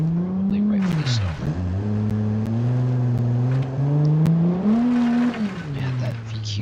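Video game car with a VQ engine revving, a loud continuous engine note that rises and falls in pitch through gear changes, close and dominant, with a voice speaking over it.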